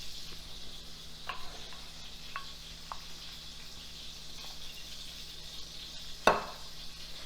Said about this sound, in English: So I will put a few onions in the gravy and let it cook that way.